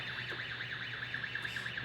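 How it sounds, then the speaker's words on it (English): An electric forklift's warning alarm sounding as the key is switched on: a steady, warbling electronic siren that sweeps up and down in a regular cycle, continuous and moderately loud with no talk. "Just turn that key on. Your alarm goes on"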